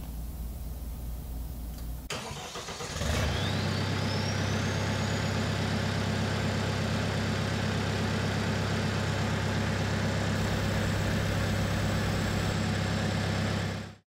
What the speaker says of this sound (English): So we're gonna start the engine.